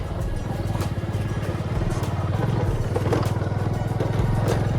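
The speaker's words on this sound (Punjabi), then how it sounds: "ਆਪਾਂ ਹੁਣ ਜਾਂਦੇ ਸੀਗੇ ਮੋਟਰਸਾਈਕਲ ਤੇ ਬਹਿ ਕੇ" A motorcycle engine chugs steadily and close by, a continuous low rumble with a rapid pulsing beat and occasional rattles and knocks.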